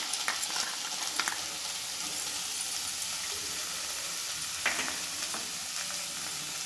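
Cumin and mustard paste frying with pumpkin in a home kitchen: a continuous soft sizzle with occasional stirring scrapes and pops, close and moderately quiet, with no one speaking.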